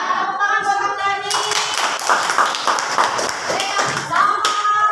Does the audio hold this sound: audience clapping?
yes